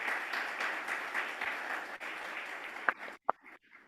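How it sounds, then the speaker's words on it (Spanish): An audience claps after a talk on antimicrobial resistance, a steady round of applause that thins out toward the end, finishing with a few loud, isolated claps before quiet. "Un aplauso, por favor."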